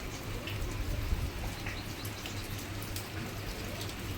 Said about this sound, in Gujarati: જો અંધારીને આવ્યો વરસાદ તો